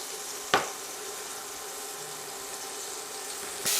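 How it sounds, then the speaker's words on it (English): Venison browning in a pan over fairly low heat, a quiet, steady hiss of sizzling with a sharp clack early on and another knock at the close. "When you're browning meat, you don't want to overload the pan"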